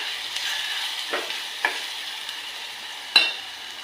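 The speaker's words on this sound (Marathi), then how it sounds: "वाटलेलं वाटण घालून घेऊया। तेलात तळून घेऊया थोडंसं।" Ground spice paste frying in hot oil for an ambadi greens dish, a soft steady sizzle with a few light stirring clicks and scrapes, close and fairly quiet, no talking.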